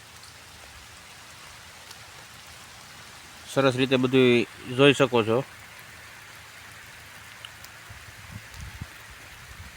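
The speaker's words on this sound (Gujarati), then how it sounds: "વરસાદ પડી રહ્યો છે" Rain falling on a farm field, a steady soft hiss of drops throughout, with someone speaking briefly in the middle.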